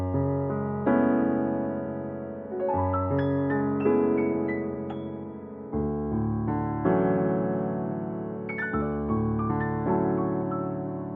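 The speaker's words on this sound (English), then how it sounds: "the second piano has a more loose feeling" Piano plays layered, sustained chords with notes drifting in loosely over one another, soft and reverberant, with no one speaking.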